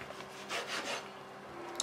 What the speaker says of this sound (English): Just slice it into about half an inch thick.